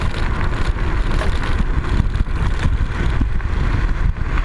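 An MX60 rolling at about 40 km/h over a bumpy dirt track on pneumatic tyres with a front air shock, giving a loud, continuous rush of wind buffeting and rumbling road noise, close to the microphone and without talk.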